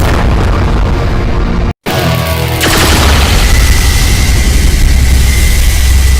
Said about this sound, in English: all of the soul guitar noise